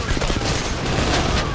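Gunfire in PAYDAY: The Heist, dense and continuous volleys of rapid shots, loud and close for the whole stretch.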